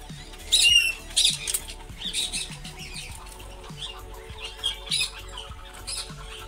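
A caged bird at the Thrissur zoo gives short, shrill squawks and chirps in a couple of bursts, then fainter repeated calls against a low background hum and ambient rustling.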